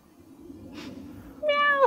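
A cat gives a single short, clear meow near the end, close and fairly loud, after a soft quiet background with no talking.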